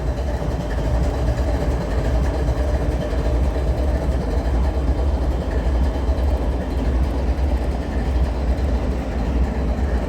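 An ES44AH diesel locomotive idles at the head of a manifest freight train, giving a steady, close, low rumble with an even mechanical drone that holds unchanged throughout, with no voices.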